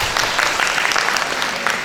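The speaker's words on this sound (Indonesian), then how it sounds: "Tepuk tangan dulu" An audience claps together at a parenting talk, a short, dense burst of applause heard alone, steady and fairly loud throughout.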